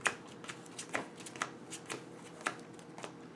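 Cardfight!! Vanguard cards being shuffled by hand during a tabletop match, giving a quick series of crisp riffling flicks and soft snaps, close and moderately quiet, with no talk over them.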